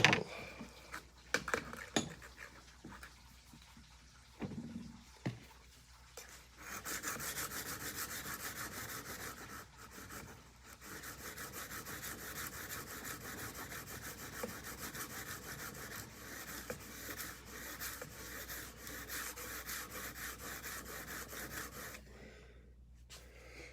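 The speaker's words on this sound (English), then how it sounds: "Sharpening one of Unc's knives for him." Rhythmic scraping strokes of a kitchen knife blade drawn across a sharpening stone, close and quiet, with short pauses before a long run of steady rubbing passes.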